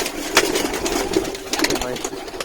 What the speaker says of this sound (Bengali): এটা কিন্তু একটা ফিমেল পায়রা